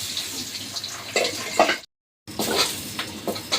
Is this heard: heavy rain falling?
no